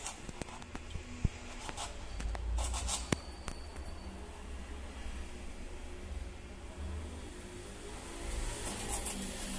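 A knife chops a ripe mango with its peel on for sangria, giving a few scattered, faint taps and cuts against a steady background hiss, with no voices.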